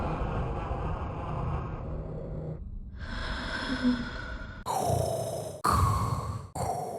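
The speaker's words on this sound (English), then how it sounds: "she starts breathing like Darth Vader." Heavy mechanical Darth Vader-like breathing from a character in a Star Wars series, slow rasping inhales and exhales followed by three sharp, loud respirator breaths in close succession.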